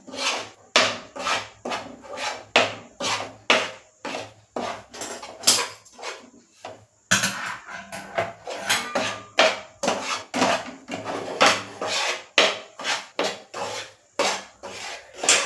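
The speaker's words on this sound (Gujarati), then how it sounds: "હવે આપણે તેને ધીમા ગેસે શેકીશું લોટ અને સતત તેને આ રીતે ચલાવતા રહેશું" A spatula scrapes through flour roasting on a low flame for Gujarati sukhadi, stirred continuously in steady, close, rhythmic strokes about twice a second, with a short pause midway and no talking.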